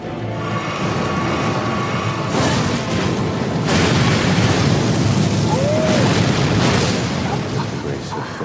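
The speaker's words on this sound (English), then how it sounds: "Okay, that's an explosion. Remember that he explodes." A boss in Elden Ring Shadow of the Erdtree explodes in a game fight, a loud, dense roar with a burst near 2.5 seconds and another near 3.7 seconds, then sustained rumbling and crackling that fills the whole stretch.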